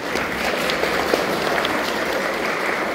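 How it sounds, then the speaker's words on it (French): A church congregation claps during a Sunday homily, a full room of hands filling the space with continuous, lively applause and a few sharper individual claps standing out. "applaudissez pour lui."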